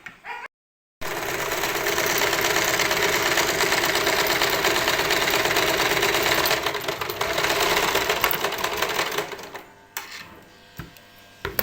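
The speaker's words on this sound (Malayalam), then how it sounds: "അപ്പോൾ ഒരു 1/2 ഇഞ്ച് തയ്യൽ തുമ്പ് ഇട്ടിട്ട് നമ്മൾ വണ്ണം അടിച്ചു കൊടുക്കുക." A sewing machine stitching a petticoat seam runs in a loud, continuous, rapid mechanical whir for several seconds after a brief pause, then slows and stops with a few scattered clicks.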